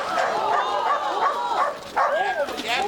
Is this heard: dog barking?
yes